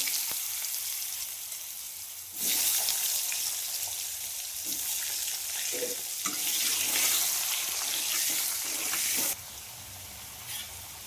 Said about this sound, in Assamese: সেই একেখিনি তেলতে মই তেজপাত দিলোঁ, আলু অলপ ভাজোঁ।